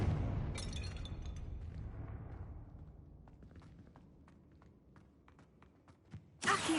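In Hogwarts Legacy, a Confringo spell explodes as a loud burst that decays into scattered crackling debris and small pops, ending with another sharp blast.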